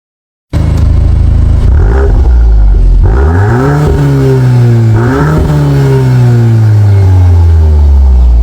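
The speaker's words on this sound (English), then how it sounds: "so that you can listen to the sound check of the vehicle" A VW Golf 8 GTI with an Akrapovic exhaust revs hard several times, deep exhaust roar rising and falling in pitch, loud and close with a steady rumbling idle between blips.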